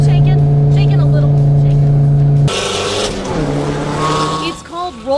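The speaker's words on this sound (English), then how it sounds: "It's called roll racing, and it's gaining popularity in the U.S." Underground street roll racing in Montgomery: a loud engine hum gives way to a sudden roaring rush of a car accelerating, with brief tire squeals near the end.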